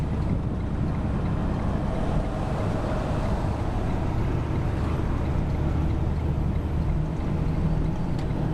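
Steady, loud rumble of engine and road noise inside a truck as it merges eastbound onto the Trans-Canada Highway in New Brunswick, continuous throughout with no talking.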